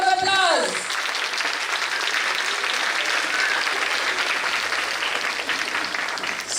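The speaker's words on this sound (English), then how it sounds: "Give them a huge round of applause." Audience applause at a school investiture ceremony, steady broadband clapping from a large crowd that holds for several seconds after a brief spoken voice at the start.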